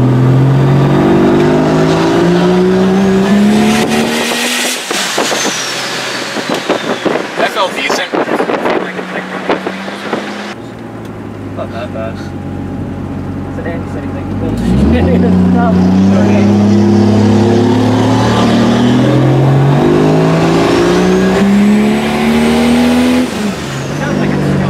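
A 1967 Checker Marathon fitted with a swapped Vortec 4200 inline engine runs close by, its steady drone rising and falling with revs, dipping to a lower idle midway before climbing again, with wind buffeting and people talking over it.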